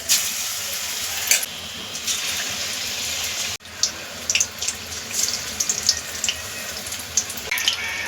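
Okra coated in gram flour batter is dropped piece by piece into hot oil, giving a continuous loud sizzle and hiss with bubbling crackles that flare up as each piece goes in.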